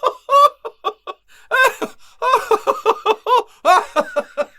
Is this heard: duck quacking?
yes